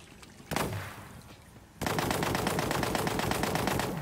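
A Tediore SMG fires in Tiny Tina's Wonderlands, first a single sharp shot with a fading tail, then a long, loud, rapid stream of automatic fire.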